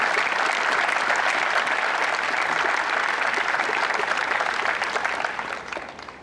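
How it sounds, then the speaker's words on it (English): A crowd applauds steadily at a school event, dense clapping at full strength throughout, tapering off in the final second. "Please give them a round of applause."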